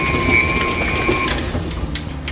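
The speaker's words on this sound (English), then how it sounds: "Now we're going to mix this until it's thoroughly combined" An electric mixer whirs steadily up close as it beats chocolate chip cookie dough, a continuous mechanical hum with faint rattling and no talking.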